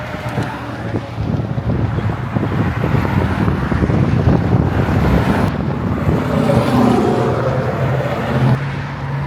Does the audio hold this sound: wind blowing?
yes